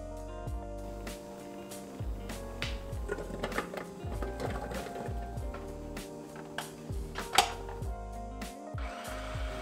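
A food processor purées fresh strawberries with a steady motor whir and shifting chopping and churning noise throughout, moderately loud with no speech.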